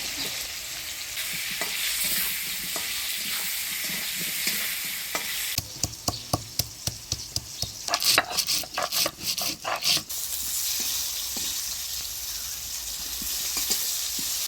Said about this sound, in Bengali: ফোড়নের তেলে আলুটা ভাজা ভাজা করে নিলাম।